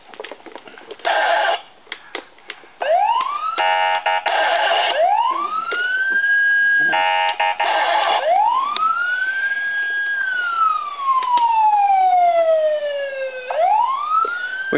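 A toy police siren wails in rising and falling sweeps, broken by stretches of rapid electronic warbling, loud and close with no voices.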